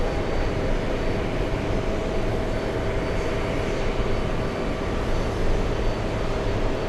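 Airplane engine noise at JFK airport, a steady loud broadband roar with a low rumble that holds throughout without pause, no voices present.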